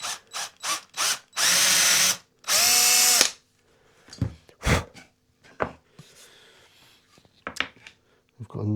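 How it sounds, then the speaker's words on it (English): A power drill whirs in two sustained bursts after a few short clicks, a sharp bit drilling through a Flying V guitar neck, followed by scattered knocks and light handling noises nearby. "Just very delicately run through them with an appropriately sized drill bit."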